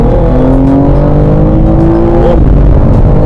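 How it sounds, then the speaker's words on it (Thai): A 2023 BMW M3 Competition LCI revs hard under acceleration, its loud, close engine note climbing steadily in pitch before a sharp crackle near the end as the exhaust pops. "เสียงแบ็คไฟออกอย่างชัดเจน"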